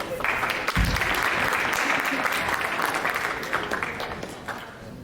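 Sustained audience applause fills a school hall at a Black History presentation, dense and steady clapping from a crowd lasting throughout, with a brief louder thump early on.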